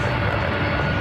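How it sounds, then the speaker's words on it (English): A United Boeing 737 from Denver landing at SFO, heard as a steady, loud, broadband jet roar that holds level throughout with no voices. "United 737 coming in from Denver."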